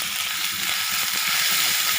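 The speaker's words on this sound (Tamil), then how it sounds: "இப்போ இடித்து வச்ச பூண்டு போட்டுடலாம்." Crushed garlic frying in hot oil for a beetroot poriyal, a steady close hiss of sizzling that holds evenly throughout, with no voices.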